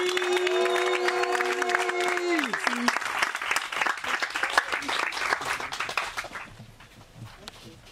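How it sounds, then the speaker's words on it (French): Conference audience bursts into loud, sustained applause and cheering at the close of a talk, with a voice calling over the clapping before the crowd noise gradually fades toward the end. "on peut encore l'applaudir, on va finir en beauté les amis"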